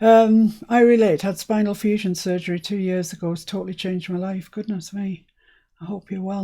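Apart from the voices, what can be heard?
No everyday noises stand out.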